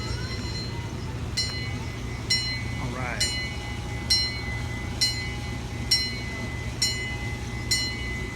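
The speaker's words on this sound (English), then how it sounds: "Here comes the train." The Titus Express zoo train arrives at Dickerson Park Zoo, a low steady rumble with regular clicking wheel beats roughly every second, heard nearby while a person speaks briefly.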